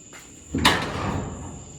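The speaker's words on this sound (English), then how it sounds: "we're gonna make sure the door will shut" Chevy Nova car door being swung shut after a hinge conversion, one sharp metallic thunk partway through followed by a short fading rattle, with a faint steady whine in the background.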